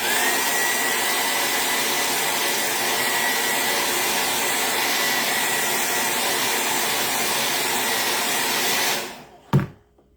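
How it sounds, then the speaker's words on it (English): A loud heat dryer blows steadily while drying Chalk Couture ink on a shirt, a constant whooshing roar that runs nearly ten seconds before it cuts off abruptly with a brief clunk. "you might want to decrease your volume because the dryer gets pretty loud"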